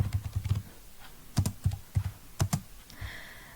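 Rapid bursts of keystrokes on a computer keyboard while an SQL query is typed into SQL Server, with clustered clacks, short pauses between words, and no talking.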